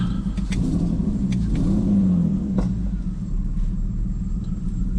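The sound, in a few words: car engine misfiring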